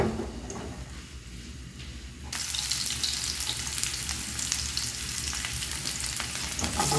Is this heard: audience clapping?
no